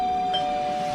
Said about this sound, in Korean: 이상한 아저씨가 초인종 누르고 있어.